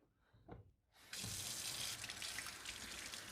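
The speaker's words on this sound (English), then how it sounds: "I do recommend pre-wetting the mopping patches to help get the mopping system going" Tap water runs steadily to pre-wet the mopping pads of a 360 C50 Ultimate robot vacuum-mop, a close, continuous splashing rush that starts abruptly after a brief quiet moment and keeps going.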